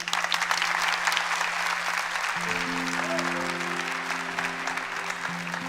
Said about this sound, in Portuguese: Aplauda nosso Senhor.